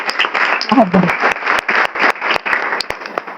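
An audience claps in a lecture hall during a talk on education, a burst of many hands that rises and falls, with a voice speaking over the applause.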